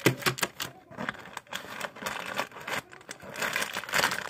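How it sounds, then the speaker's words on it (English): Close, irregular crinkling of a plastic packet of number 2 pencils, bursts of rustling and crackling handled up near the microphone, no talking. "I have this packet of number 2 pencils"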